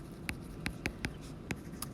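Pen or marker writing by hand while working a geometry problem on pyramid and cone surface area, with quiet, evenly spaced ticking strokes over a soft background hiss.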